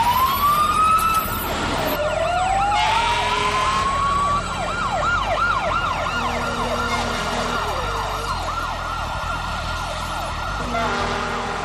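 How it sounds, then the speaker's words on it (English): Loud wailing sirens rise and fall repeatedly, several overlapping as emergency vehicles pass nearby amid traffic noise. "From across the city, 11 fire engines race downtown."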